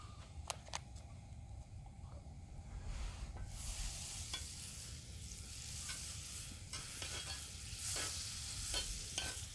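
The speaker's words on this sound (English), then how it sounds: "throw some butter on the grill" Butter melts on a grill over a campfire with a soft, low crackle that swells a few seconds in and holds steady, broken by faint scrapes and clicks, and no one speaks.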